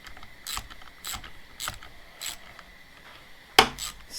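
Ratchet fitted with a 13 mm socket loosening a mirror nut on a 2009 Harley-Davidson Sportster Low, a few crisp clicking strokes spaced about half a second apart, close and fairly quiet, ending in a sharper clack.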